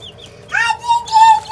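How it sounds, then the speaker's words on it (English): Five-day-old baby chicks give a few thin, high cheeps, close by, in short calls over a steady low background hum. "See the chickies?"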